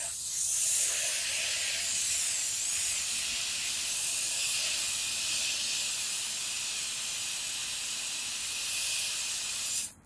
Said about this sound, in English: Let's go ahead and spray this.